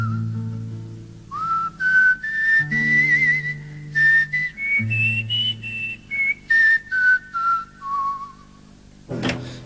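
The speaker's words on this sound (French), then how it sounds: "Démonstration du siffleur en modulation de fréquence." A whistler performs a frequency-modulation demonstration with a device in the mouth, producing clear, loud gliding tones that rise and fall in pitch. Low droning pulses run underneath, and the piece ends in a burst of noise.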